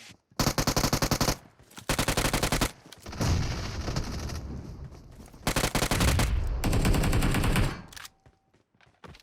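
Automatic gunfire from the mobile battle royale game PUBG Mobile comes in several loud bursts of rapid shots. Rougher, noisier firing and short pauses come between the bursts.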